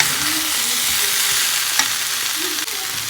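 Soybean chunks stir-fried in a pan, a loud, dense sizzle running throughout with a few stirring scrapes and a soft clink, heard close with no one speaking.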